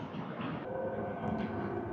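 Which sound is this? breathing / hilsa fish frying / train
train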